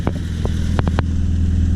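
A warm Spitfire car engine idles steadily and loudly, slightly high at just over 1,000 rpm, with a few brief clicks and knocks over the top.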